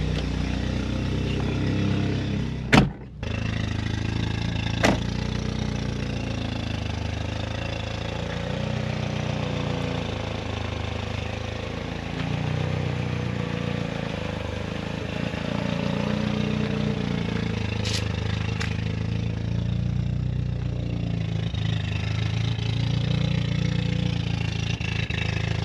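Volkswagen MK2 Jetta engine running, a steady low rumbling idle heard from inside the car with a couple of sharp clicks, continuous and moderately loud.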